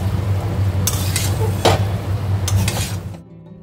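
Fried potatoes stirred in a pan with masala for Bengali aloo dum, a steady low hum and soft sizzle under three scraping spoon strokes, the last two close together, with no talk before it cuts to silence.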